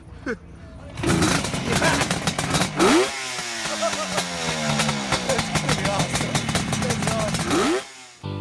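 A 1971-77 Suzuki GT750 three-cylinder two-stroke motorcycle starts with all three chokes on, cranking briefly before catching into a loud, close, rising and falling engine drone that runs for several seconds then cuts off, with voices talking over it.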